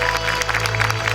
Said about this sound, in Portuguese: Uma salva de palmas, senhoras e senhores